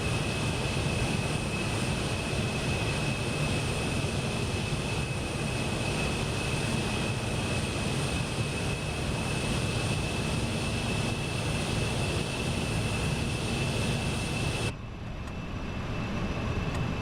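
Concorde jet engines roar in a flight simulator game, a dense, steady broadband rumble with a faint high whine running evenly throughout, cutting slightly near the end.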